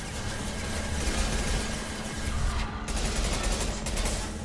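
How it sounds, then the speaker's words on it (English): A high impact shot rings out amid continuous gunfire and combat noise in the Mass Effect 2 video game, the dense loud din never letting up over the whole stretch. "Firing a high impact shot."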